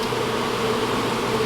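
Honey bees hum inside an open hive, a dense, even droning buzz that fills the short stretch without a break and with no talk.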